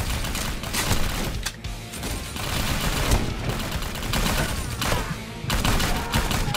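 Dense gunfire in the Vietnamese war video game 7554, with rapid bursts of automatic weapons fire and overlapping shots running almost without pause, loud and close, broken only by brief gaps.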